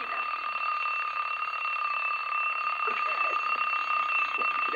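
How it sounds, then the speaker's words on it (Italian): An alarm clock rings continuously in an indoor room, a steady, fairly quiet electronic tone that persists without a break, with a few faint background sounds beneath it. "Metto la sveglia."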